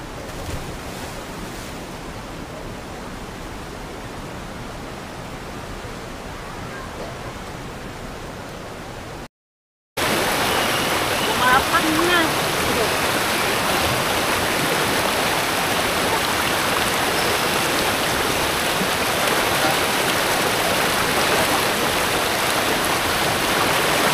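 A waterfall at Camp AWOL in Real, Quezon, gives a continuous rushing roar of falling water, steady and dense throughout apart from a brief gap partway through.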